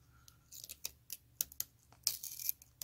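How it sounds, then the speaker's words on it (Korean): Protective plastic film peeled off a new ASRock Z390 Taichi motherboard, quiet and close, with sharp crinkles and short tearing snaps in an irregular series. "이거 비닐 떼고 싶다. 어차피 쓸 거니까 떼겠습니다."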